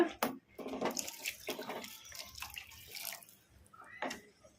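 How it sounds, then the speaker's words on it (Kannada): Water poured into a soya chunk curry mixture, giving bursts of splashing and trickling with short pauses between pours, close and moderately loud. "ಇನ್ನು ಸ್ವಲ್ಪ ನೀರು ಹಾಕೋಣ."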